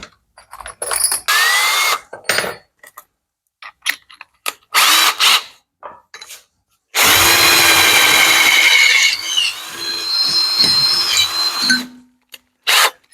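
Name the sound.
power drill enlarging a hole in sheet metal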